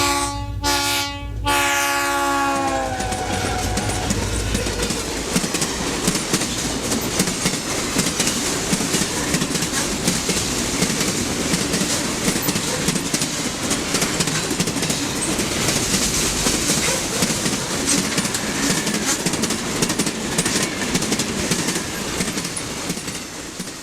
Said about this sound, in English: another BN freight passes, this one led by a U-33C.